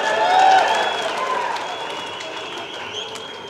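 A crowd at a public political meeting addressed by Karnataka Chief Minister Siddaramaiah breaks into clapping that swells at first and then tapers off, with voices and a tonal murmur mixed in.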